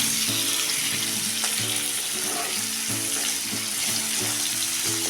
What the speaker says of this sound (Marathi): जरा वेळ असं चांगलं परतून घ्या तेलात